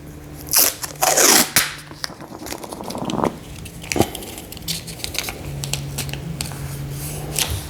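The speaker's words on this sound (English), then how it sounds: "I am going to tape this." Masking tape is pulled and torn against a paper template laid out for mounting a 55-inch 2022 Samsung Frame TV, with crisp crinkles, ripping strips and paper rustle close by in irregular bursts.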